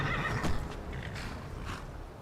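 A horse in the video game Skyrim gives a loud, close whinny that rises and falls, followed by a few soft hoof clip-clops.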